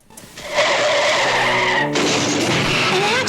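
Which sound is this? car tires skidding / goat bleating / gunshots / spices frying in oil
car tires skidding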